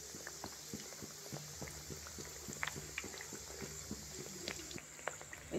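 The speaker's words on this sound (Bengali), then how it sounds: "একদম লো টু মিডিয়ামে করে ভেজে নিতে হবে।" Nimki, a flaky pastry snack, deep-fries in oil over a low-to-medium flame, giving a quiet, steady bubbling with soft popping crackles throughout.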